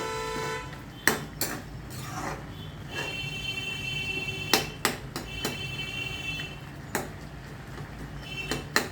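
Tomato and potato curry being mashed in a pan, with irregular sharp metallic knocks and clatters of a utensil against the pan, some in quick clusters, over a steady low background.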